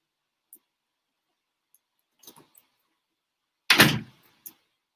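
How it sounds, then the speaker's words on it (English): A room door swung shut with a single firm thud, preceded by a few faint clicks and rustles and followed by a small knock, otherwise near silence. "I think I need to close this door."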